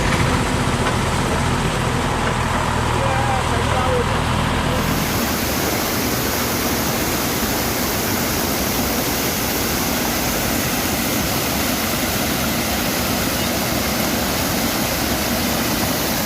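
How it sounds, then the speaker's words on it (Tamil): Floodwater rushes along a road after heavy Cyclone Fengal rain in Tamil Nadu. A continuous, loud, broad roar holds steady throughout, with no talk. "சாலையில் மழைநீர் பெருக்கெடுத்து ஓடியதால்"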